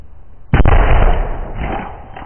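An amateur rocket motor ignites with a sudden sharp bang, then a loud, roaring whoosh that trails off over about two seconds, heard close by outdoors.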